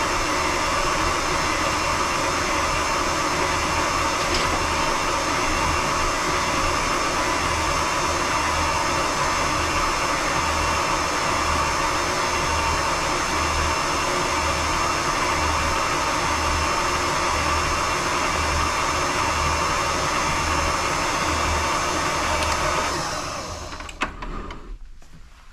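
An electric mixer whirs steadily, close and loud, beating green velvet cupcake batter for over twenty seconds before winding down at the end.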